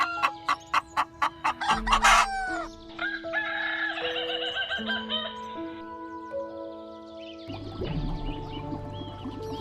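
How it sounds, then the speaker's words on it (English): A hen clucks in a rapid, rhythmic burst before a rooster lets out a long, loud cock-a-doodle-doo crow, followed by more fowl calls, close and clear with no talking. "Hen and rooster."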